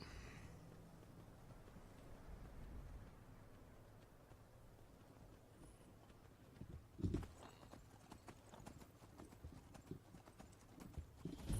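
A horse in the Skyrim video game gallops near Dawnstar, with steady clip-clop hoofbeats that grow louder and more distinct in the second half, over a low ambient game background.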